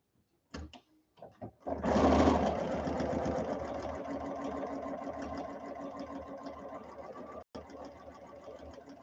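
A sewing machine runs steadily, stitching a quarter-inch seam on a quilted clip cushion, starting after a few short clicks and continuing at an even hum for several seconds before a brief stop near the end.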